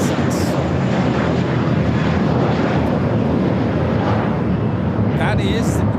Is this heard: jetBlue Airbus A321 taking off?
yes